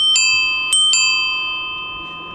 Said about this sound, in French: la sonnette.